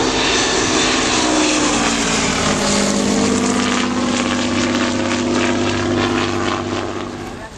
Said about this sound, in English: No flaps on this aircraft, a big biplane, so you can really slow it down by raising the nose.